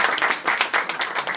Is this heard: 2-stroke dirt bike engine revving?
no